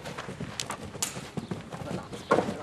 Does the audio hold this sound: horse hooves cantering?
yes